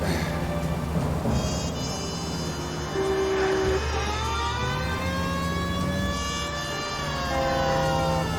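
A police car siren in the game LA Noire wails continuously, its rising and falling tones sweeping over a low engine hum as the car drives, with no talk over it.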